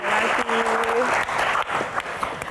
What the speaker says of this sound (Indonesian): tepuk tangan sekali lagi untuk Queen kita